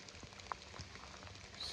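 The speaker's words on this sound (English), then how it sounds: "It's currently raining. Not pouring, but it's raining pretty good out here." Rain falls on a cold January day outdoors beside the James River at Fort Huger, a faint, steady patter with occasional distinct drops.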